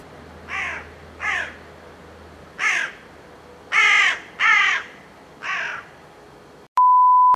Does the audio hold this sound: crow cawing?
yes